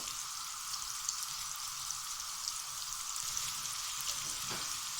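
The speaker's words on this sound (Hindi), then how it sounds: "प्याज फ्राई करते हुए भी हमने थोड़ा सा इसमें नमक डालना है।" Sliced onions frying with a pinch of salt in a pan, giving a steady close sizzle with scattered small crackles and a brief stir near the end.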